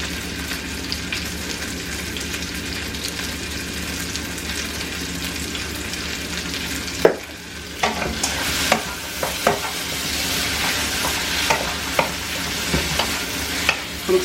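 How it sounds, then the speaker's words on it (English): Vegetables for beef stew sauté in a pot with a continuous close sizzle, and after a brief dip a run of spoon scrapes and knocks against the pot follows. "we gonna saute our veggies for about 3 minutes"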